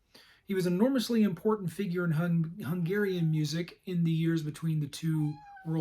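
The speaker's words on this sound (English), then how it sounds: "I happen to be sharing this room with a couple of cats, so if you hear a few stray meows here and there" Cats meow repeatedly in a room, their cries running under and between a man giving a pre-concert talk about a Hungarian composer.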